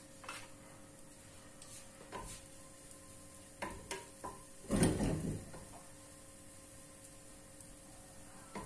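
Ingredients land in hot oil in a frying pan: a quiet kitchen with a few light clatters, then a short, loud burst of sizzling that quickly fades to a low crackle.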